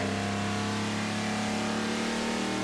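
A race car engine in the Roblox game Jailbreak during a NASCAR event, holding a steady, loud, high revving drone with sustained harmonic whine and no talking.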